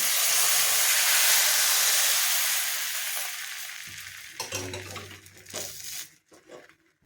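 Rice batter ladled onto a hot tawa for Bengali soruchakuli pitha sizzles loudly and steadily at first, then fades, with a few clinks and scrapes of a ladle near the end.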